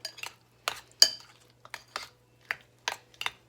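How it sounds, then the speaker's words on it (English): Shrimp salad being stirred in a bowl, with about ten short, separate scraping clinks of a utensil against the dish at an irregular rhythm, close and fairly light, with no talking. "Stir it up."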